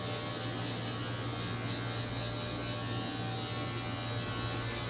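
Electric hair clipper fitted with a number 1 comb running steadily during a barbershop haircut, a constant close buzzing hum with little change in pitch, no talking.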